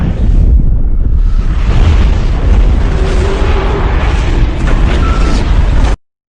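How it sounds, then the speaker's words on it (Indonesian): A bomb blast on a boat in the film Next, a loud, continuous roaring rumble with wind-like noise lasting about six seconds before cutting off abruptly into silence. "bom tersebut akan meledak beberapa detik lagi"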